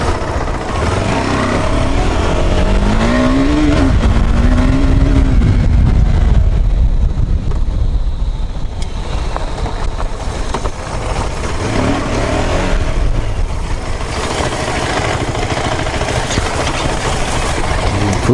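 A KTM Adventure 390 motorcycle accelerates on a ride, its engine note rising and falling through revs over steady wind rush. It sounds loud and close throughout.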